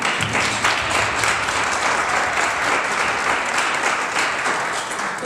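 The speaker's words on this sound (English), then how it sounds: "I want to clap." A standing audience at a talk by a life coach and marketing strategist gives a continuous, loud round of applause, dense overlapping clapping that holds steady from start to end.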